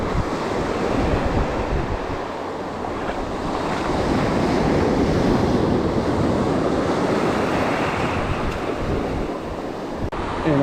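Surf rolls onto a Cape Canaveral beach as a northeast wind blows, a dense, steady roar of breaking waves with wind buffeting the microphone throughout, loud and close with no voices.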